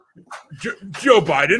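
A dog at feeding time yips and whimpers in short excited bursts that blend with someone talking over it, close and fairly loud.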